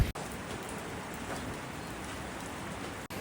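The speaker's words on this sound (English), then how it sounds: "And the rain." Steady rain falls on a stationary vehicle near Arthur's Pass, a dense even hiss of drops on the surface, loud and close, running for the whole stretch with no voices.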